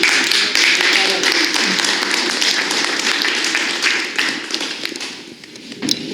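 An audience at a poetry meeting in a writers' house bursts into applause, sharp clustered claps that thin out toward the end, with voices talking over them.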